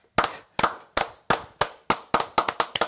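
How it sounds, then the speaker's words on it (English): Single pair of hands clapping in a steady rhythm, about a dozen sharp, close claps that quicken slightly toward the end, in a quiet room with no talking. "Are we rhythmically clapping?"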